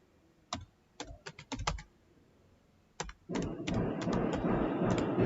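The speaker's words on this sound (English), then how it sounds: "I will now type st. Let me just type Student." Keys clatter on a computer keyboard in close, quick bursts of typing, then a denser stretch of keystrokes with a faint background noise.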